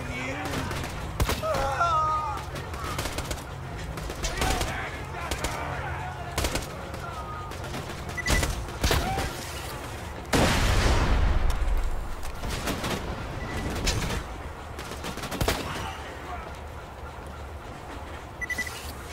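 Laser rifle fire in Borderlands 2, bursts of sharp rapid shots repeated through a firefight, with one loud sustained blast midway, under intermittent talk and game ambience.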